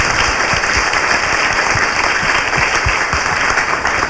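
A crowd applauds steadily and densely for a few seconds, a continuous close wash of clapping with no voices over it.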